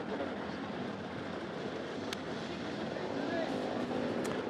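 Enduro motorcycle climbing past rocks at an extreme hard enduro race stage in Romania, its engine a steady broad roar throughout under a commentator's voice.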